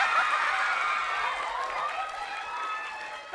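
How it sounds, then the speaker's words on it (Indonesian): A studio audience applauds contestants on an Indonesian comedy game show, with steady clapping and cheering throughout at an even, fairly loud level. "Oke, kita berikan Untuk tepuk tangan."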